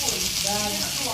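Banana fritters (goreng pisang) frying in hot oil in Bali make a continuous bright sizzle and crackle, steady and close, with no break.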